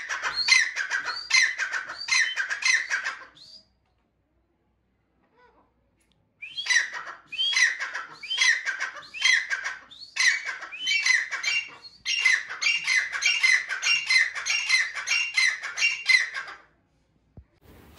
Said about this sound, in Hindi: काले तितर की मादी बहुत अच्छी बड़े कद में मादी है